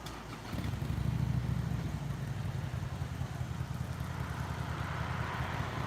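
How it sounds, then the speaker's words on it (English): A motorcycle engine rumbles steadily nearby, a low throbbing idle that holds at an even level throughout, with no talking. "Bike don't sound too bad either."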